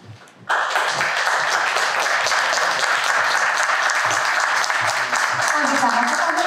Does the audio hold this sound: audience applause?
yes